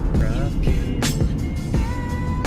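City traffic on a street in Satwa, Dubai, rumbles steadily close by, with vehicle noise running beneath voices talking.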